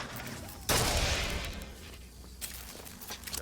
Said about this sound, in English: Sounds like there's also a machine gun turret besides those soldiers.